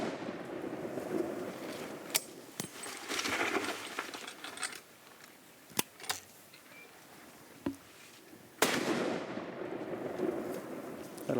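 Sharp rifle reports ring out during an elephant hunt in the Zimbabwe bush. Several isolated cracks are spread across the stretch, one notably louder near the end, over faint outdoor ambience.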